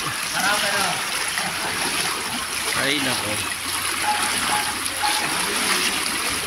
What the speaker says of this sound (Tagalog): Yan, ganyan po kabilis ang tubig.